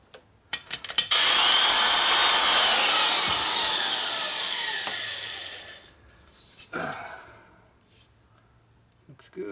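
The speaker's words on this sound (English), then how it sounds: "We'll just give it another light grind" A grinder works a part from a 1942 Harley-Davidson XA 45ci military flathead engine, giving a loud, high, ringing grind that slowly fades over several seconds, followed by a couple of short touches and some clatter.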